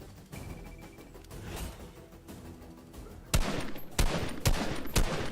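Gunfire rings out in Fortnite: a stretch of muffled, distant shooting gives way to several loud, sharp close-range shots in quick bursts.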